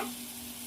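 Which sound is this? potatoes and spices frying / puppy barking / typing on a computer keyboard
potatoes and spices frying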